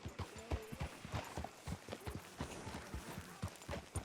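Horse hooves clip-clopping at a steady walking rhythm in Red Dead Redemption 2, faint and fairly close, with soft ambient sound and a little distant speech.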